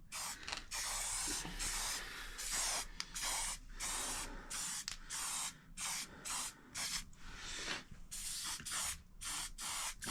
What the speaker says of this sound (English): Try to make sure the paint sprays as it should before you get carried away.